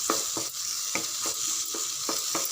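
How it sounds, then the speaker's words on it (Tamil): Coriander leaves sautéing with tamarind in a pan, producing a soft steady sizzle broken by repeated spatula scrapes and stirs at a quick, regular rhythm. "இது பாருங்கள் மல்லி இலை கொஞ்சம் சேர்த்து வதக்கி வச்சுக்கணும்."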